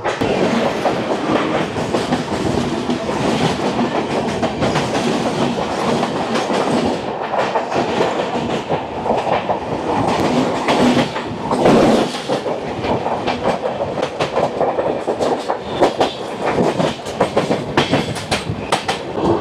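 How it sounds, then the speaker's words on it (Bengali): The Amrit Bharat Express on its Malda to Bangalore run rolls out of Visakhapatnam with a loud, continuous rumble and rattling clickety-clack of wheels, heard from on board throughout. "আমাদের ট্রেন ছেড়ে দিল বিশাখাপত্তনম"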